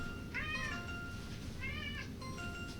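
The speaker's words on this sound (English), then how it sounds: "The cat's in here." A cat meows three times indoors, drawn-out, wavering cries spaced about a second apart over a low background hum, fairly close to the listener.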